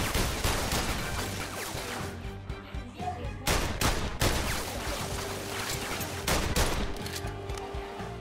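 SMG fire in a PlayStation VR Worlds game rattles in rapid, loud, near-continuous bursts with several heavier sharp cracks, and no talking can be heard.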